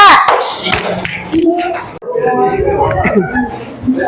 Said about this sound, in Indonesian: Ya, tepuk tangan dari kelompok 2.